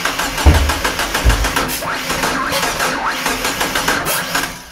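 Toyota Supra Mk3 engine cranking with a rhythmic starter whir and churning compression pulses, then catching with a couple of deep low thumps before a rough, uneven run and fade, close and loud.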